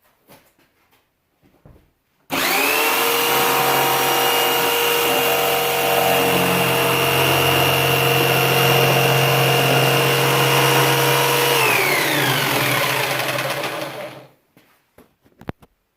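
A power saw runs loud and steady for about twelve seconds, cutting PVC for a teardrop camper door with a constant whine that shifts pitch near the end before stopping.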